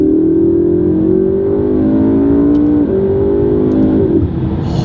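A McLaren 12C sports car accelerates hard from a standstill to about 35 mph, its engine note rising loud and close inside the cabin, then dipping briefly at two gear shifts before climbing again.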